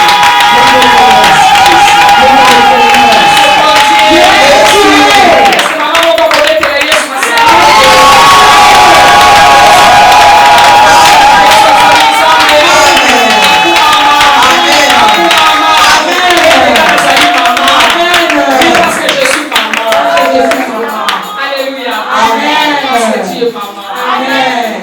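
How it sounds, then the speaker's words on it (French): A church congregation at a French-language service cheers and shouts in praise of Jesus, a loud, sustained crowd roar with excited voices and scattered shouts filling the whole stretch, swelling and dipping slightly without a break. "Acclame Jésus"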